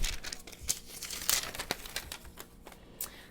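Paper store receipt from a Walgreens shopping trip crinkled and handled close up, with several sharp rustles and crackles over a quiet background and no talking.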